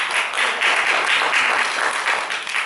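Steady crowd applause greets a participant at a nutrition role-play session, a continuous patter of many hands at even loudness throughout, with no talking over it.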